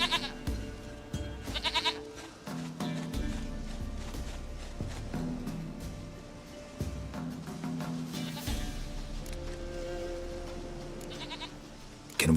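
A goat bleating in The Witcher 3 video game, several short wavering calls rising over ambient game sounds and soft footsteps, fairly close and moderately loud.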